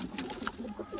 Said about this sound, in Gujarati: આ આપણે જૂનામાં જૂની કબૂતરની જોડ છે.